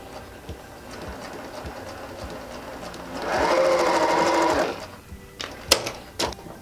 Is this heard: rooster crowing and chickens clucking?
no